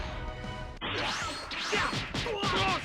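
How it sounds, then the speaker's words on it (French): Teleport effects in the Dragon Ball Sparking Zero video game, a sequence of sharp whooshing swishes and crash-like impacts in quick succession, loud and close with no talk over them. "Ça, les bruits de TP aussi, j'adore."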